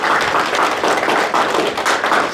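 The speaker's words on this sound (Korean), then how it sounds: "오래오래 해로하라고 큰 박수 한번 부탁드릴까요?" Audience at a lecture in Daegu breaking into applause, a dense and steady wash of many hands clapping together, loud and continuous across the whole moment.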